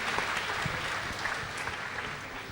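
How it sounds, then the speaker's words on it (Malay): An audience applauds a guest named Ana Rafali at a celebrity talk show. The clapping is dense and continuous but fairly soft, heard from a little distance with no voices over it. "Kita bagi tepukan untuk Ana Rafali"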